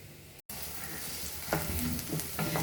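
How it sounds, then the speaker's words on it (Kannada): Vermicelli with onion and carrot fries in a pan, making a soft continuous sizzle with a few stirring scrapes after a brief cut. "ಚೆನ್ನಾಗಿ ಇದನ್ನ ಫ್ರೈ ಮಾಡ್ಕೊಳ್ಳೋಣ."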